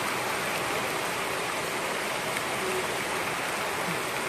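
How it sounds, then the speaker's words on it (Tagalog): Heavy rain pours down in a dense, continuous broadband hiss that stays steady and loud throughout, with no voices over it. "ang lakas ng ulan"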